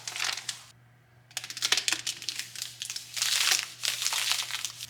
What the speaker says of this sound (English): So it's got this backing you just peel off.